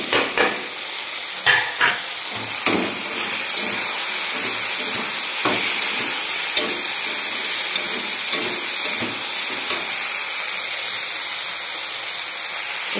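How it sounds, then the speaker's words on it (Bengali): Okra curry with chopped onions frying in a pan, a steady sizzle and hiss with a few sharp clinks of stirring near the start and occasional softer knocks throughout, no talking. "भिंडिর তরকারি भिंडी বানাচ্ছি এখন পেঁয়াজ কোটা হয়ে গেছে"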